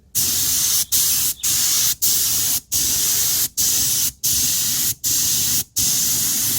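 Aerosol spray paint being applied to a repaired car mag wheel: about nine short bursts of loud, close hiss, each lasting under a second, separated by brief silences in a steady rhythm.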